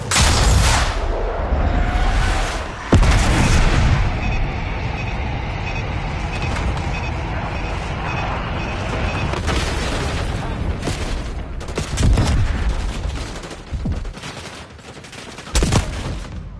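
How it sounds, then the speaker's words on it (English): Airstrike bombs exploding in the video game Call of Duty Black Ops 6 give heavy booms and rumbling blasts, with sharp bursts of gunfire, under intermittent voices. "Bombs away."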